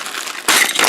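Small plastic model kit parts spill from a bag and clatter onto the floor, a sudden burst of light rattling and scattering after a soft rustle.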